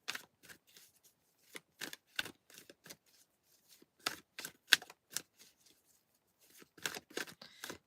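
Tarot cards are shuffled by hand in short, crisp riffling bursts with pauses between them, close and quiet against a near-silent background, with no voices.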